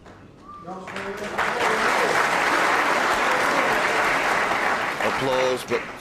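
Sustained audience applause at a World Snooker Championship semi-final swells and holds for several seconds after a safety shot, with a commentator speaking briefly at the start and again near the end.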